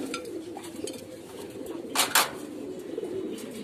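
Barless pigeons sitting on eggs in a loft give soft, low cooing. The coos come faint and intermittent, with a couple of sharp clinks in the middle.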